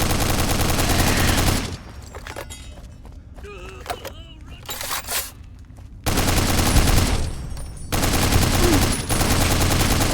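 Bozar light machine gun in Fallout: New Vegas, loud sustained automatic bursts of fire, broken by a quieter pause with scattered smaller sounds before the heavy rattling fire resumes in long strings.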